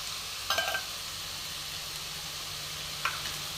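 Peas and green beans roasting lightly in oil in a pan for vegetable biryani, giving a soft continuous sizzle with a couple of brief scraping stirs, quiet and close, no speech.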